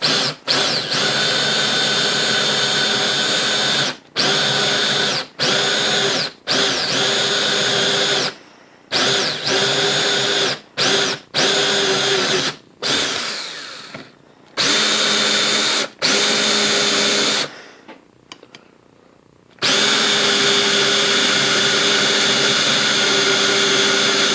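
A slow reamer cutting a bushing in a machine shop, heard as a loud, steady machine whine that stops and restarts repeatedly, with brief gaps of quiet between runs.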